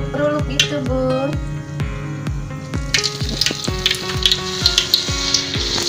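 Batter for peanut crackers (peyek kacang) fries in oil with loud, continuous crackling sizzle and sharp spatters close by, intensifying in the second half.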